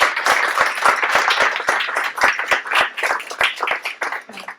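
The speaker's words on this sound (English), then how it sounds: "So I would like another round of applause for them" Applause from a modest audience at a mental health and addictions fundraiser, a few loud, sharp, close claps standing out over softer scattered clapping, with a voice briefly audible toward the end.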